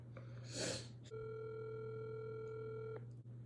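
Telephone ringback tone on an outgoing call to a property listing, a steady electronic tone lasting about two seconds after a brief burst of noise, with a low constant hum underneath and no talking.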